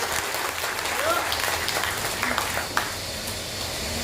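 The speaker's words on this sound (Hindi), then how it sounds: "अरे अपने लिए तालियां बजाओ, इस तुलसी के लिए बजा दो भैया।" A crowd claps steadily in a dense wash of applause that holds at an even level throughout.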